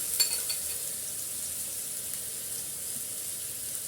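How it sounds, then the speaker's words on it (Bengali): Chopped onion softening in oil with a spoonful of ginger-garlic paste, giving a quiet, even frying hiss throughout with a couple of faint clinks near the start, no voices. "পেঁয়াজটা হালকা একটু নরম করে নেব এক চামচ আদা রসুনের পেস্ট দিয়ে দিলাম"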